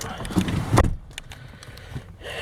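Keys and remotes jangling for a 2001 Cadillac DeVille inside the car, a brief metallic rattle near the microphone followed by lighter clinks and faint cabin rustle.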